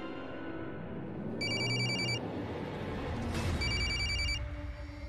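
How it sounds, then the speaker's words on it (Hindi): A mobile phone rings loudly in a home in two repeated bursts of electronic ringtone over a steady room hum, with no one speaking. "ये किसका फोन है?"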